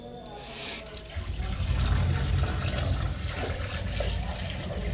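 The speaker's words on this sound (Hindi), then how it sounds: "हम अभी आपको बता रहे हैं इसमें पानी डालकर कि पानी हमारा कहाँ तक है।" Water pours steadily into a ceramic Odisha-style squat toilet pan during plumbing installation, a loud, continuous rushing splash that swells after the first second and keeps going.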